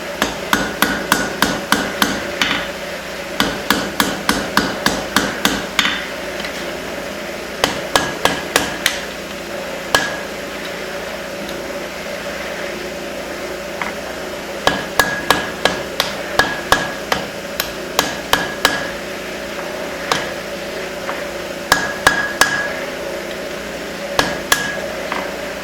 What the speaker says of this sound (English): take one more heat on this side, we'll flip it around, I'll get the other side. On the edge of the anvil